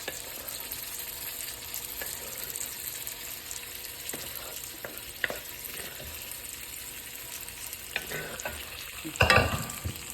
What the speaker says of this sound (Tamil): எள்ளு பொடியெல்லாம் போட்டு மிக்ஸ் பண்ண போகிறேன்